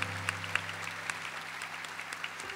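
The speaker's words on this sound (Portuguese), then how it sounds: "Podemos aplaudir a palavra de Deus, palavra da nossa salvação." Church congregation at a Catholic Mass applauds after the Gospel reading, a soft, distant patter of many hands over a low steady hum, fading out near the end.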